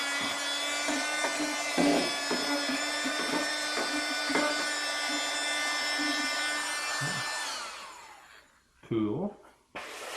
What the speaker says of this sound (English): It's a dainty little vacuum, but it does the job.